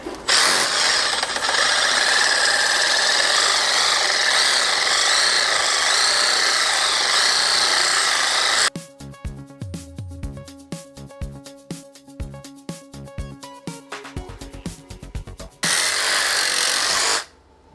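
Wire brush fitted to a reciprocating tool scrubbing green algae off a wall, a loud continuous rasping buzz that stops, gives way to a stretch of scattered scraping and tapping, then resumes briefly before cutting off.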